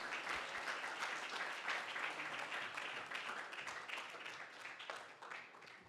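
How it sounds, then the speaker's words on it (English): Audience applause at a symposium, a full room clapping steadily and loudly for about six seconds and easing slightly toward the end, with no talk over it. "Can we give another round of applause for Eli Porter?"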